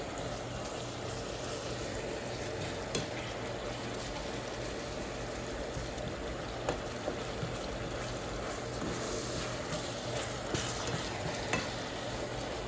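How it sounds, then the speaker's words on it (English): Ground beef browns in a pan for lasagna sauce, giving a steady, dense sizzle and crackle throughout, with occasional stirring scrapes and small pops close by. "As you can see, the beef is browning nicely."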